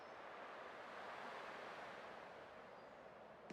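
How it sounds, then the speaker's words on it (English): Ocean waves in Honkai Star Rail wash in a steady, soft roar, a faint continuous surf with no distinct breaks and no voices. "I can still clearly hear the sound of the waves."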